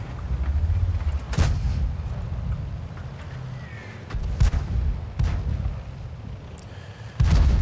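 A Leopard tank gun fires in a World of Tanks battle, with several loud, sharp booms at irregular intervals, each followed by a short rumbling tail, over constant engine and battlefield noise.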